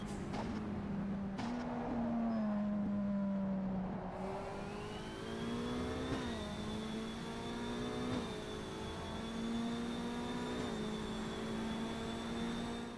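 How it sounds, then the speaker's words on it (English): Peugeot 207 race car engine in the rFactor 2 racing game, a steady whining drone that climbs in pitch through repeated gear changes, heard alone at moderate level. "the sound is quite good and has many of the sounds you hear in a racing car beyond the mere motor sound"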